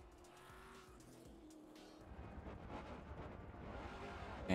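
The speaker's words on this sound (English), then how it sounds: "Cars revving up." Supercar race engines rev and roar on the grid at Sandown, building steadily louder with a rough, throaty drone and ending in a sharp loud burst.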